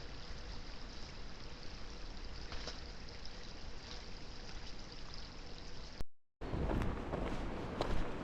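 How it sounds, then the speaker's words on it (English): Creek water flows steadily at a trail crossing during a night hike in the Smoky Mountains, a soft continuous rushing babble with faint footsteps, briefly cut off by a gap before resuming. "here we are coming up on this other little creek crossing"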